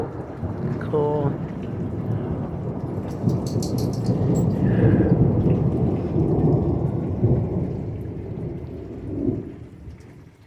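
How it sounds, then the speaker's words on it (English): A heavy thunderstorm pounds down steady, hard rain while a long rolling rumble of thunder swells in the middle and fades toward the end. "We was having a pretty good lightning thunderstorm come through."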